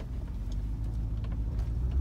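A Range Rover 4.6 HSE engine runs steadily with a low rumble as the vehicle sets off, moderately loud and close, with no talking.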